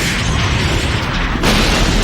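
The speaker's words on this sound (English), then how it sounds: "Joey flees through the exploding New York streets" Explosions tearing through New York city streets in a Hellraiser film, a dense, loud, continuous roar of blasts with a fresh surge partway through, close and overwhelming.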